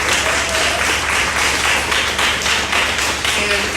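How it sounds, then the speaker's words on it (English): An audience claps for panelists at a public education forum in Tupelo, Mississippi. The dense, continuous applause fills the room and holds even in volume throughout. "So please give a round of applause to our panelists."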